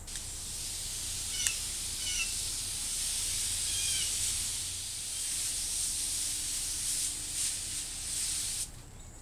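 A garden hose turned down to its lowest mist setting gives a steady, soft hiss throughout, with a few faint bird chirps early on and a brief cut at the end.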